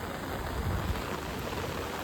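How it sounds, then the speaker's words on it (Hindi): Heavy rain pours during a cloudburst in Haridwar, a steady, dense hiss of falling water with a low rumble beneath, continuous and even throughout. "इन्होंने अंदाजा नहीं लगाया होगा कि इतनी ज़्यादा तेज़ बारिश मिलने वाली है।"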